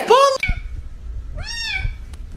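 Cat meowing, two clear drawn-out meows separated by a short pause, close and fairly loud, with light background noise.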